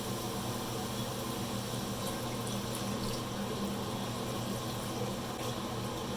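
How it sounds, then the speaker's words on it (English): Stock poured into a pot roast pan makes a steady, close liquid rush that runs unbroken for several seconds, with no talking. "So now we're going to add the stock."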